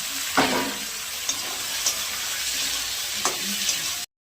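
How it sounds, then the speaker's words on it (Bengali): Onion, ginger, beans, carrot, peas and tomato fry in a pan for a lentil dal, an even steady sizzle with a few spatula knocks and stirs, then a sudden cut to silence. "পেঁয়াজটা একটু লাল করে ভেজে নেব"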